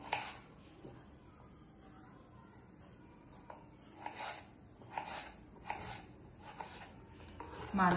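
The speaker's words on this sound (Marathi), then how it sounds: "हे असे मध्ये कापले आणि असे बारीक कापून घ्यायचे आपल्याला." A kitchen knife slices potatoes into thin strips for french fries on a board, with a steady series of crisp cutting strokes, quiet and close, growing more regular toward the end.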